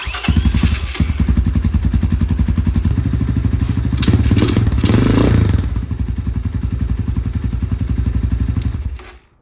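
An X-Pro Titan 250 motorcycle engine starts up after a fresh oil change and settles into a loud, close, steady idle with a rapid mechanical chatter, then cuts off near the end.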